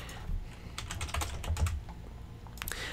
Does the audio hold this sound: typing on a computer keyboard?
yes